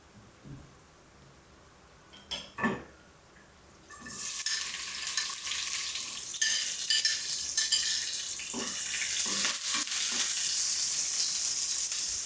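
Onions and green chillies sizzle in hot oil for chilli paneer, a steady frying hiss that starts after a few clinks and spoon scrapes and then carries on loud, with occasional stirring clatter.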